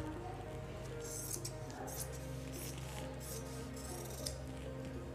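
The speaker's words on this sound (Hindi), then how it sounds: "अब हम इस जो ये जुड़ा हुआ पीस है इसको हम काट देंगे।" Quiet snips of scissors cutting through a joined piece of heavy semi-Patiyala salwar fabric, a few soft crisp cuts over low steady room hum.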